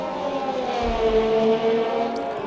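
An F1 race car engine in a Hungarian Grand Prix qualifying session of a racing video game, a steady loud droning hum with slight pitch shifts as it revs, continuous throughout.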